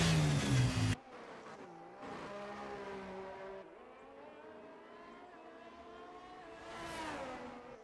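A Ferrari Formula 1 car in a racing video game, its high-pitched engine revving and shifting through gears across the track, steady and fairly loud, with a brief burst of other sound at the start.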